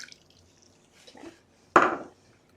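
Water poured from a cup into a blender jar of fruit for a smoothie, a short, loud splash near the end after a few faint clinks.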